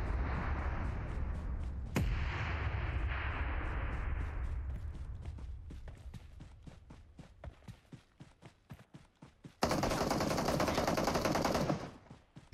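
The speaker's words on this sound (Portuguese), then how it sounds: "Tá atirando um cara lá em cima." Gunfire from a shooter in PUBG Mobile: dense loud bursts over the first seconds, then a long run of separate sharp shots ticking at a steady rhythm, with a bright hissing burst near the end.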